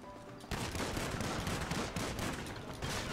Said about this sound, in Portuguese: eu tô atirando nos caras, os caras me dão um tiro e morro